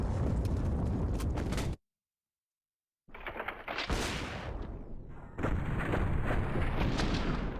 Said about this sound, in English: Great first bullet accuracy from Perfecto there